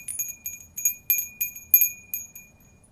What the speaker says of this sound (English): that bell is kind of lame, but I love it